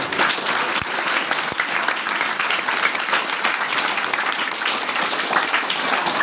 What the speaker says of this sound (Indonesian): Tepuk tangan buat santri di sini.